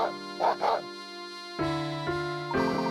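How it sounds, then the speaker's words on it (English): A dog in the Professor Layton game gives a few short, bright barks and yips, then a longer whimpering whine, close and clear under game music with no talking. "Let's talk to the dog."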